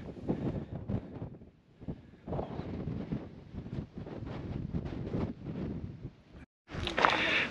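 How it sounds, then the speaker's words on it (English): Strong wind on a high, exposed spot on Fuerteventura, roaring and buffeting against the microphone in steady gusts, with a brief lull near the end before a loud hissing gust returns. "I just tried to fly my drone, but it's so windy up here."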